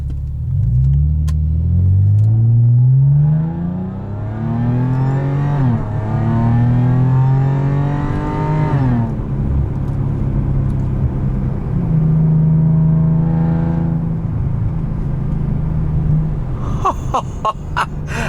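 A supercharged 2012 Audi A7 fitted with an aftermarket intake and exhaust accelerates through several gears, its engine note rising in pitch and dropping at each shift, loud and continuous from inside the car.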